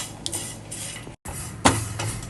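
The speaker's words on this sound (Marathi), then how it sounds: "सगळ्या गोष्टी ह्या भाजून घ्यायच्या असतात काजू बदाम पोहे गरम तव्यावरती" Cashews, almonds and poha dry-roasting on a hot griddle, with steady scraping and clinking of stirring, a brief silent gap, then a sharper metallic clink before the stirring continues.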